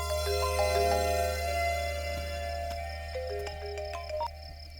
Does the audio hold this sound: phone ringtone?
yes